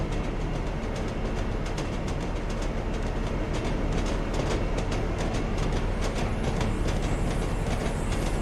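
Steam locomotive wheels from the Train Sim game clacking steadily over rail joints at about 45 mph, a continuous loud rolling rumble with regular clickety-clack beats throughout.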